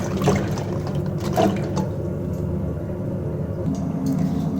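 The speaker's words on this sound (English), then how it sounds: "first thing is to wash the cranberries and pick out any of the duds, which are easier to see when they're in the water" Cranberries being washed in a bowl of water: continuous sloshing and gentle splashing up close, with a low background rumble and a few brief clinks, no talking.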